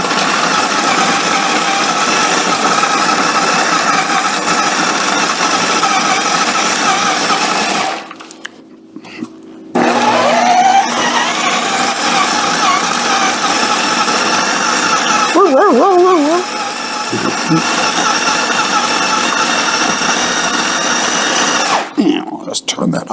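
A kitchen machine grinds bread into fine breadcrumbs for Italian seasoned crumbs, a loud, steady motor whir that cuts out briefly twice before running on, with a voice talking at times.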